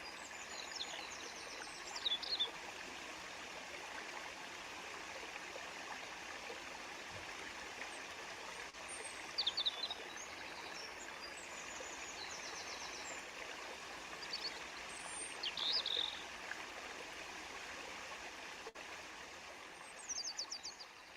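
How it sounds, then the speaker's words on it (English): Waterfall and flowing stream outdoors near a cabin, a steady soft rush of water throughout, with brief bird chirps breaking through every few seconds, faint and distant, no voices. "The waterfall was lovely."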